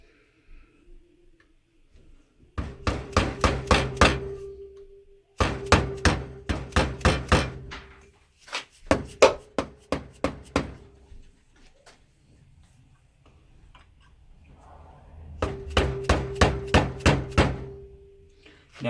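A dead blow hammer taps on a motorcycle crankcase in several quick runs of sharp, evenly spaced knocks, fairly close, with short pauses between the bursts.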